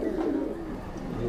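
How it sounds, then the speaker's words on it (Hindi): Pair of red Madrasi pigeons giving a low, continuous cooing murmur, steady and close, with no voices over it. "तो भाई ये लाल नफ्ते कबूतर हैं, ये पूरा पेयर है।"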